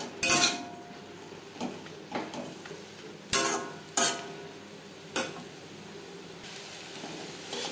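Taro leaf paste is stirred in a pan with mustard oil, with a spatula giving a few sharp, scattered scrapes and clacks against the metal over a faint low hiss of frying.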